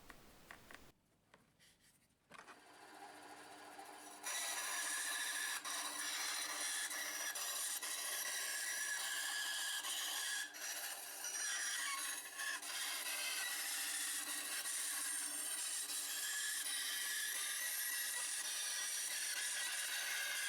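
A grill being trimmed to size, first with a few faint scratchy strokes, then a loud, continuous raspy cutting or filing noise that keeps going steadily to the end.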